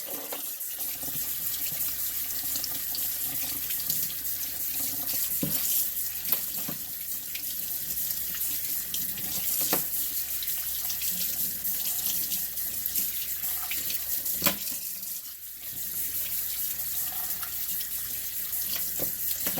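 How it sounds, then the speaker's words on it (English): Tap water runs steadily into a kitchen sink over raw crabs being cleaned for a Jamaican jerk crab dish, a constant close splashing rush with small spatters and no talk. "we are going to go ahead and let that run under chlorine water for about a minute"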